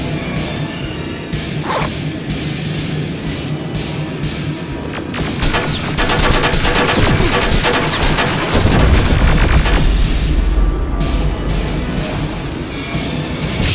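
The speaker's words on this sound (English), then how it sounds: "Why is he throwing grenades?" Grenade explosions and gunfire in Terminator: Resistance, a first-person shooter game: sharp shot volleys and swishing whooshes build to a heavy, loud cluster of blasts midway, then thin out toward the end.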